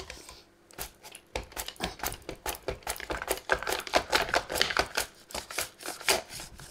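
A butternut squash being sliced on a Mandochef mandoline gives a quick run of sharp, crisp cutting strokes, close and fairly loud, in a steady rhythm.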